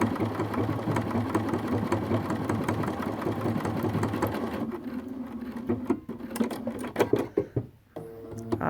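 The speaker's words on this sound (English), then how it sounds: "So there's my little reindeer I just sewed out" A Bernina 570 sewing machine embroiders a small reindeer pattern, whirring steadily and close for several seconds before slowing and stopping with a few mechanical clicks.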